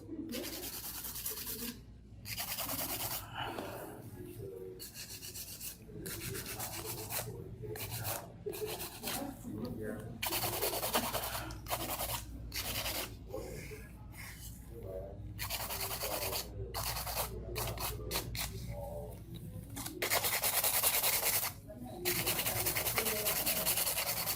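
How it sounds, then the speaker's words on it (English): A hand file rubs back and forth over gel nails in steady, close scraping strokes with brief gaps between passes, while a person talks over the filing. "is a little bit of hand filing"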